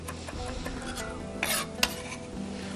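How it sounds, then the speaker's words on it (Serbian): Vegetables and rice fry with garlic in a pan and are stirred, a steady sizzle under scraping utensil strokes with a couple of sharper clinks, close and alone with no talking. "Ja ću malo bijelog luka ovdje dodati dok pržim naše povrće i rižu."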